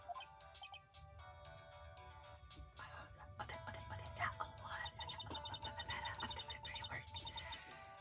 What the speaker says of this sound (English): What? That's a phone?